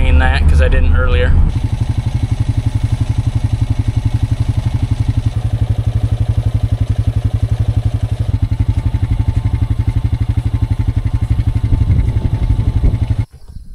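A 15 horsepower motor on an old grain bin running steadily, a loud, even, rhythmic mechanical drone close by, continuing throughout after a brief different noise at the start and cutting off near the end.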